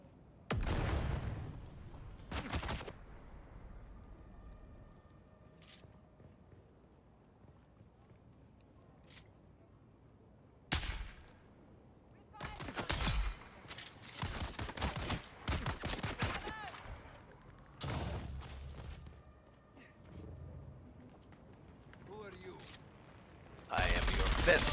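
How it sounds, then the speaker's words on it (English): Gunfire in the sci-fi survival game Dune: Awakening comes in scattered sharp bursts and volleys fired at the player, loud cracks separated by quieter gaps, with a voice speaking now and then between the shots. "Somebody just tried to shoot something at me."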